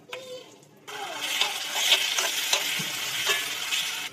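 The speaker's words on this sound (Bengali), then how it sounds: "দিয়ে ভালো করে মিক্স করে নেবো। এটা 1 মিনিট মতো মশলার সঙ্গে কষিয়ে নেব।" Fried potatoes being stirred into a spice masala in a hot pan, a steady bright sizzle with repeated scraping strokes that starts loud after a brief quieter moment and continues close up.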